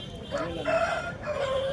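A rooster crows at a hen market in Bhadradri Kothagudem, one long, loud, close cock-a-doodle-doo that rises and holds over a murmur of background market noise.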